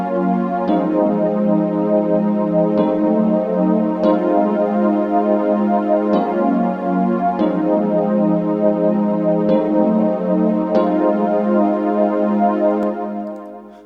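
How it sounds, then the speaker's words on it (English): The Digital Fantasy polysynth from the Expand plugin plays a dense, sustained chordal melody for a pluggnb beat, with soft regular note attacks every second or two over a constant, shimmering wash of tone. "the sound itself, is actually in the polysynths category, and it's the digital fantasy, and it sounds like this"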